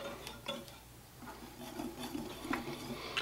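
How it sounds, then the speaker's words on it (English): Flour, baking soda and salt whisked together in a bowl, heard as quiet, rapid scraping and rubbing strokes with light ticks of the whisk, faint and close, with no talking. "we're just gonna whisk these together real quickly to get them all evenly distributed"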